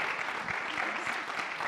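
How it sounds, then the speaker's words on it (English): An audience in a church conference hall gives a round of applause, a steady mass of clapping at moderate volume with a few voices mixed in. "another huge round of applause."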